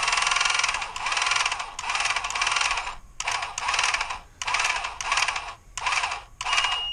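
A homemade remote antenna tuner's pin meets its limit stop, heard as loud, close bursts of rattling mechanical clatter, one long run followed by several shorter repeated bursts with gaps.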